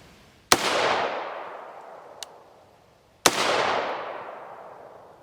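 Two sharp rifle shots about three seconds apart, 5.56x45mm 77gr Sellier and Bellot OTM rounds fired through a Yankee Hill 3-port QD muzzle brake, each a loud crack followed by a long rolling echo, with a faint tick between them.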